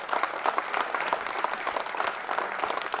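A studio audience at a Deepavali pattimandram debate broadcast on DD Tamil bursts into steady, dense applause that fills the whole stretch without pause.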